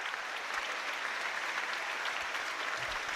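Crowd at a York City versus Barnet football match applauds during a substitution, a steady distant wash of clapping across the stadium with no clear individual claps.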